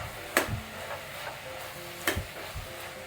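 Crushed shallots are stirred in a pan for a prawn dum biryani made in a pressure cooker: a few quiet, spaced scraping strokes over a faint, low sizzle.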